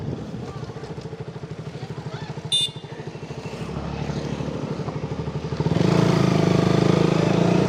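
A motorcycle ridden through Kathmandu, its engine droning steadily up close, then rising louder as the rider accelerates near the end.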